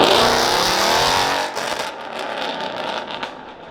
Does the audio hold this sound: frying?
no